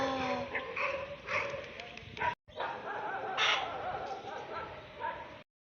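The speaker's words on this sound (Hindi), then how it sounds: "भाई ये तो भौंके जा रहे हैं" Dogs bark outdoors in a series of sharp, repeated barks at middling distance, with short pauses between bursts and faint background sounds.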